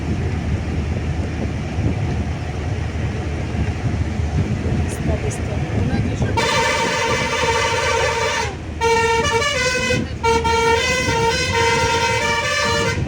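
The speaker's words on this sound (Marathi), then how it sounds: "इतका गाडीचा आवाज आहे गाडीचा हॉर्न खूप कर्कश कर्कश कर्कश आवाज" Busy traffic rumbles throughout on a hilly mountain road between Lumbini and Pokhara, Nepal, then from midway loud, harsh, sustained horns blare repeatedly with brief gaps, close by.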